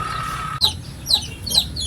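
A Tinula bloodline labuyo rooster clucks up close in a few short, sharp calls spaced about half a second apart, over a steady background hum.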